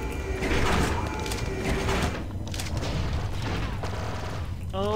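Pistol fire in Star Wars: Republic Commando, with sharp gunshots and a steady bed of battle noise and game effects, loud and continuous with no talk.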